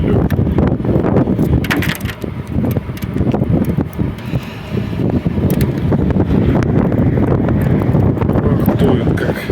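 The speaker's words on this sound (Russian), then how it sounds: "Ах, дует как." Strong blizzard wind roars loudly and continuously, buffeting the microphone with a dense, rumbling rush and occasional gusty surges throughout.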